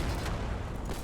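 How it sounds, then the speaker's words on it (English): Grenade explosion in the war game Foxhole, a muffled boom amid surrounding gunfire during an assault on a base, with dense low rumble and a couple of sharper cracks. "Grenade! Let me explode that motherfucker!"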